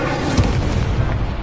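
A fiery Incendio spell blast in a Harry Potter-style magic game bursts loud and close as a dense, rumbling whoosh of flame lasting over a second.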